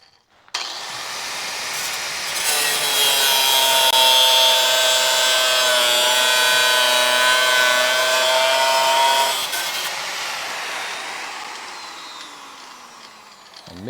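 Cutting disc slicing through metal on a Dodge Charger crew cab restoration, a loud sustained whining grind that spins up, bites steadily for about seven seconds with a bright ringing tone, then winds down.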